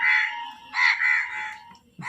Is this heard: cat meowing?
no